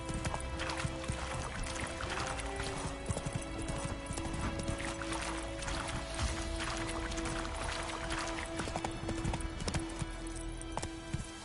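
Horse hooves clip-clopping steadily in The Witcher 3, ridden on PS5: a continuous rhythmic trot of hoof strikes close by over a constant bed of ambient game sound, with no talk.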